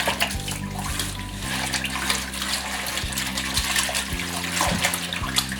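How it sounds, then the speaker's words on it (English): Leafy greens being washed and shaken in a basin of water while preparing efo riro, with steady splashing and sloshing that churns continuously at close range, and no voices heard. "wash thoroughly, shaking the green like this to make sure that you get rid of any stones that might be hiding in those leaves."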